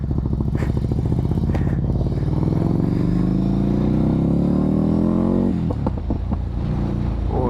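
A Ducati Scrambler motorcycle engine revs loud and close under the rider, its pitch climbing steadily through a long pull, then dropping sharply on a gear change before building again amid wind roar.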